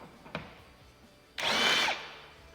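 A brief burst of a power driver spins for about half a second, removing screws from a 2022 Chevrolet Corvette C8, preceded by a small click and set in a quiet workshop.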